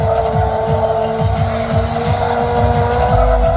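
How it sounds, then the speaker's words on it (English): A car spins a double 360 at Santa Pod Bug Jam drag strip, tyres squealing in a loud repeating whine over a revving engine that pulses with each rotation, close and continuous. "Boy's going to get a double 360 right there."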